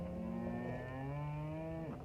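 One long, low cow moo from a paddock, close and loud, slowly falling in pitch before breaking off, with no talk around it.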